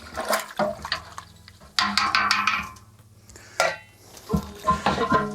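Home brew mixture is poured into a fermenter, a sloshing, splashing pour with clinks and knocks of plastic and containers in uneven bursts, close by.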